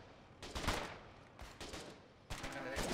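Gunfire rattles in three separate bursts in the video game Foxhole as players shoot at the gunner of an APC, with a voice now and then between the volleys.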